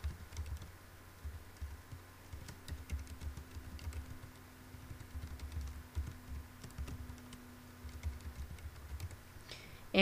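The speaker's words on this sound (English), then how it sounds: "Now type in your email." Steady, fairly quiet tapping of keys on a computer keyboard while an email address is entered, an irregular run of light clicks lasting the whole stretch with no talking.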